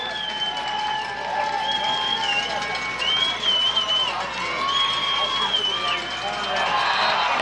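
High school football crowd at Southmoreland hosting Charleroi, a broad, sustained roar of cheering and scattered clapping from the stands, steady and fairly loud throughout, with a voice talking over it.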